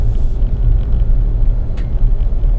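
A 2026 Chevy Colorado ZR2 with Multimatic DSSV shocks rolls along a gravel road, giving a steady low tire-and-road rumble inside the cab with faint rattles, no talking.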